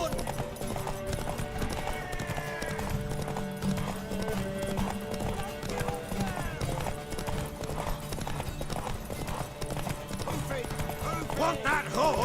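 Horse hooves clip-clopping in The Witcher 3: Wild Hunt, a steady rhythmic gallop with occasional whinnies, heard alongside game music and spoken character dialogue throughout.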